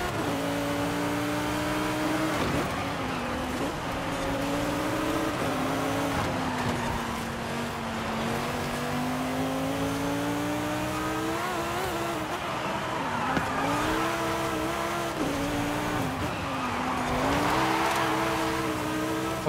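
A 1,200-horsepower V10-swapped Ferrari 458 Italia races in Forza Horizon 5, its engine revving loudly and continuously with pitch rising and falling through gear changes, plus brief tire squeal.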